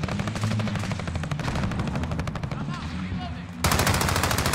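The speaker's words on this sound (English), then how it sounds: "I just keep shooting them" Sustained automatic gunfire from a Call of Duty match, rapid steady bursts repeating for several seconds, loud and continuous with game action layered in and a louder burst near the end.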